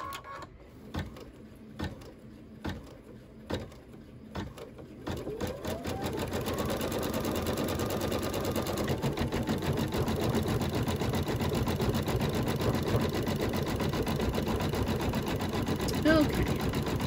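A sewing machine runs steadily for a long stretch, stitching zigzag and satin stitches on a Halloween quilt block, a loud even mechanical whir after a few separate clicks and short starts at the beginning.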